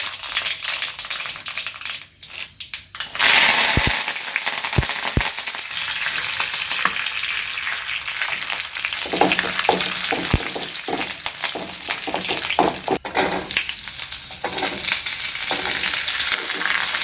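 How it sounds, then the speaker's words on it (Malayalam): Onions frying in a pan for a tomato-less chutney, a continuous close sizzle broken by scraping and clattering as they are stirred, with no talk. "സവോള നന്നായി വഴണ്ടി കഴിഞ്ഞു."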